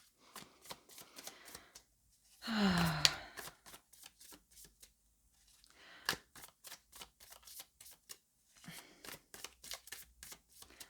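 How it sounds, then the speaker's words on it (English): Tarot cards being shuffled: repeated crisp riffling and flicking with a louder riffle burst partway through, close and clear, no talking. "let's shuffle the cards and let's start with the reading"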